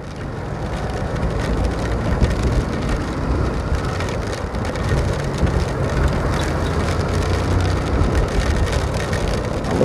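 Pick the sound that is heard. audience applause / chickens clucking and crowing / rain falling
rain falling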